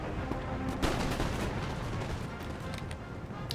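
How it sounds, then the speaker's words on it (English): Musket volleys crackle through a continuous wash of battlefield noise in Empire Total War, with one sharper crack standing out near the start amid a dense, steady roar and no voices. "Then just open fire on not anyone in particular, just open fire."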